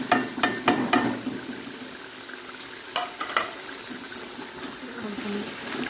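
Spices, red chilli, cumin, salt and turmeric, fry in hot oil for dal palak with a continuous sizzle, broken by several sharp scraping stirs of a spoon against the pan, close and clear.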